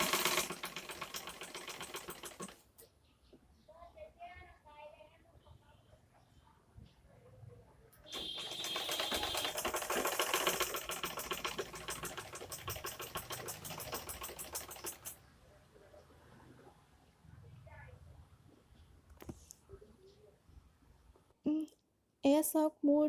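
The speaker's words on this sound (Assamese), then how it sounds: "মই সাধাৰণভাৱে ঘৰতে এইটো মেচিন আছে কাৰণে জেনেৰেল মেচিন তেনেদৰেই চিলাইছোঁ" A household sewing machine stitching the edges of a cotton wrap cloth, running in dense rattling bursts of rapid needle strokes, loud in stretches at the start and middle, with quieter pauses and a voice speaking between runs.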